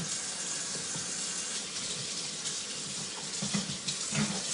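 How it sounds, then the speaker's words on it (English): Tap water runs steadily into a sink while a bowl is washed, a continuous close splashing hiss with slight shifts as the stream hits the bowl. "I'm just going to wash this bowl."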